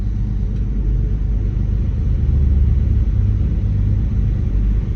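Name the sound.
Tigercat 6900 grinder engine revving up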